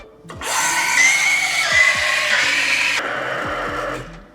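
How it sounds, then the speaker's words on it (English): Eversys Cameo espresso machine steaming a cold jug of milk, its pump injecting air in a loud, close, hissing mechanical whir that starts abruptly, holds steady, then shifts in tone near the end with clicking pulses underneath. "what you heard there is the pump adding air into the milk"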